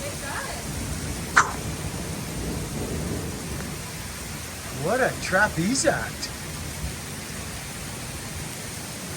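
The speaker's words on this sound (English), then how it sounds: "oh my, whoa, that's called raining. Yeah, that's raining." Heavy rain pouring by a lake at the Buckin'Stock 2025 event, a dense steady hiss throughout, with people talking over it at moments.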